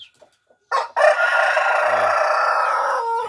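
A rooster crows loudly and close by at a poultry farm, one long drawn-out call after a few brief clucks and rustles.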